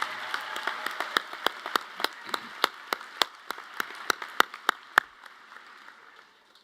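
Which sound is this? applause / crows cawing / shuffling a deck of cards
applause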